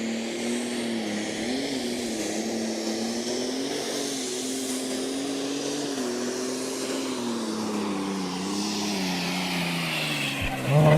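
Fendt pulling tractor on a beach pull track at Putten, a loud continuous engine howl with wavering revs that sag and rise over the run, heard from some distance with crowd and wind noise.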